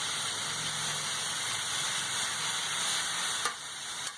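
Food sizzles on a hot griddle, a steady close hiss that runs unbroken with a brief sharp crackle near the end and no one talking.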